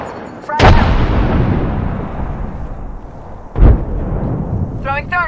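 Two frag grenade blasts go off in Apex Legends, sharp loud cracks a few seconds apart, each followed by a long rumbling decay, with a brief whooshing game effect near the end.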